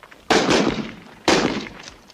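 Two sharp, loud gunshot-like bangs about a second apart, each with a decaying echo, amid the Spanish Civil War as nationalist troops advanced through villages.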